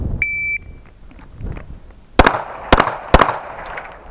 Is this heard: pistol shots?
yes